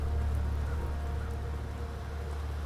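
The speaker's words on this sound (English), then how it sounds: "Rain." Steady rain in the action adventure RPG The Black Grimoire: Cursebreaker, a continuous even hiss with a low rumble underneath, fairly quiet and without talk.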